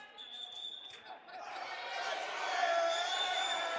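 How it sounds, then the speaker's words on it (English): A crowd at a wheelchair football grand final swells into loud, sustained protesting noise that builds over a few seconds, with a whistle-like tone near the start. "The crowd's protesting there a bit"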